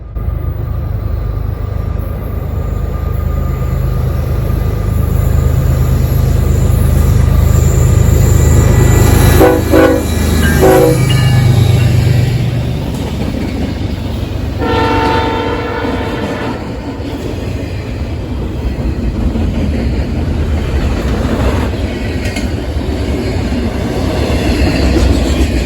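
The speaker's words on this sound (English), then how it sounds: "an unidentified northbound and very short Norfolk Southern intermodal train." A very short northbound Norfolk Southern intermodal freight train passes in evening light, a loud rumbling roll with blasts of the horn near the middle and lingering wheel noise as it moves on.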